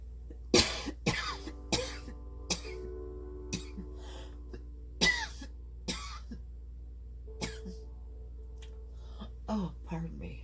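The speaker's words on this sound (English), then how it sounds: "And I have to cough." A person coughs and clears their throat repeatedly, close and distinct, in separate bursts spaced irregularly over a quiet background hum.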